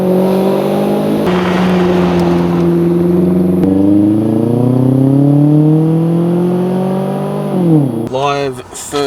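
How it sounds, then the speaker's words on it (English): A Suzuki Grand Vitara 2.4L fitted with a custom 2.5-inch stainless steel exhaust revs up and holds, engine note climbing steadily and loudly at close range, then dropping off sharply before a final quick blip. "going to do a rev test."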